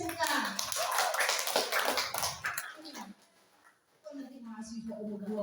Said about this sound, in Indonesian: Tepuk tangan lagi untuk SMK.